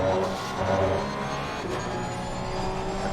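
A Porsche 992 Cup race car on track at Zandvoort, its engine droning loud and steady from onboard with slight rises and dips in pitch through the whole stretch, no one talking.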